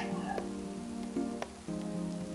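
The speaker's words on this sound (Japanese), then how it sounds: "また雨が降ってきました。" Rain falls steadily outside during work on a camper van, a continuous patter with a few louder drips and knocks over a background hum.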